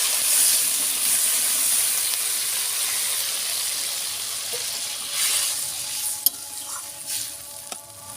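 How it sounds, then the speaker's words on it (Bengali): Water is poured into a hot pan of green banana curry, setting off a loud, steady sizzle and hiss of steam that slowly fades, with a few small clicks near the end. "এবারে জল দেবো"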